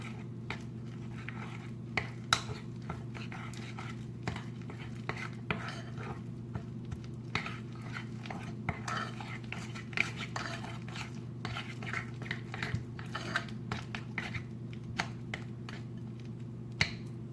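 Cream cheese filling with vanilla extract and powdered sugar being mixed in a bowl for no-bake fruit cups, giving steady soft scraping and tapping clicks of a utensil against the bowl over a low constant hum, with no talking.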